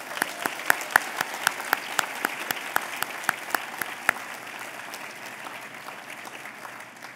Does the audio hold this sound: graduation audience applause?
yes